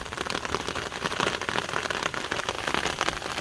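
Rain patters densely and steadily on a nearby umbrella while camping in Glacier National Park, a close crackling hiss of many drops.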